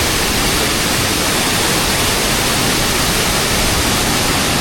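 Huay Kaew waterfall outside Chiang Mai roars in a constant, loud, close wash of falling water with no breaks.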